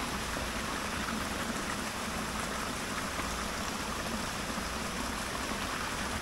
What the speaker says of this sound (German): Deswegen werde ich jetzt hier die leeren Wasserflaschen hier auffüllen.